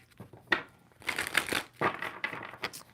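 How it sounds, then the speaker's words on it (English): A deck of tarot cards is shuffled in several quick riffling bursts, close up and soft, with a faint background hum. "2 more shuffles."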